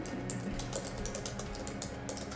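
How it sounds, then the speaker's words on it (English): Rapid typing on a computer keyboard, a steady run of light clicks and key taps with no one talking, set against a constant background hum. "I'll type it."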